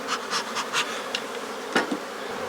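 Dense buzzing of many honeybees during a hive inspection, a steady swarm drone with individual insects swelling louder as they pass close.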